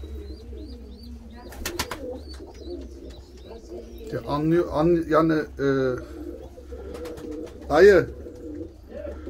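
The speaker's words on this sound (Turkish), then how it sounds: "Çok yaşlı bir kuş orada." Pigeons coo in low, throaty phrases close by, with a few sharp clicks and a brief word spoken among the calls.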